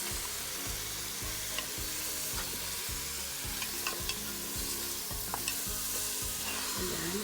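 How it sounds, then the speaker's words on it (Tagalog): Beef being sautéed in a pan with onions for nilagang baka, a loud steady sizzle with rhythmic stirring strokes repeating about every half second, close up and with no talk. "igigisa lang natin ng maigi para mawala po ang langsa"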